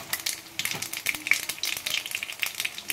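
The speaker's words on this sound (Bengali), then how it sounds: "কড়াইয়ের মধ্যে সর্ষের তেল আবার একটু দিয়ে দিয়েছি, একটু কালো জিরে দিয়ে দিলাম ফোড়নে" Black cumin seeds and a dried red chilli fry in hot mustard oil in a kadai, a close, crackling sizzle with rapid popping bursts running steadily throughout.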